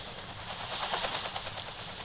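A helicopter in the Roblox video game gives off a steady whirring rotor drone with a faint rhythmic chop. It lasts two seconds and is heard alone.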